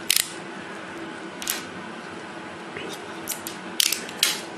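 Battery cover being unscrewed and batteries pushed into a gadget: a run of small plastic clicks, ratcheting taps and brief scrapes, close and fairly quiet, with short bright snaps scattered across the clip.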